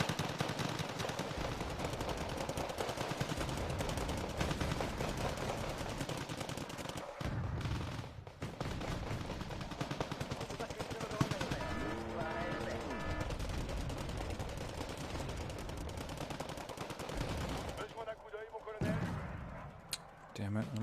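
Wargame Red Dragon battle with several units firing together on one section of enemy Legion troops, a dense continuous rattle of gunfire and impacts layered with game effects and occasional voices.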